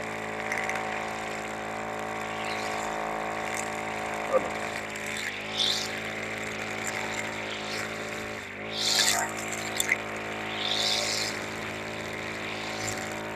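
Small two-stroke brush cutter droning steadily while clearing overgrown grass in a yard, a constant high engine whine with brief louder bursts as the blade bites into the growth, no voices.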